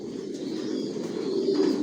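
Racer pigeons coo softly and continuously inside a loft, a low, murmuring warble with a few faint higher chirps, close by and steady.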